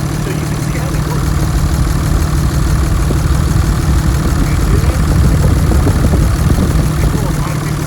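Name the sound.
Cummins 5.9L 24-valve diesel engine idling with valve cover off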